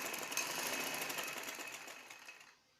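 A sewing machine stitches green ribbon onto a cherry-design baby frock, running in one steady close whir that stops near the end.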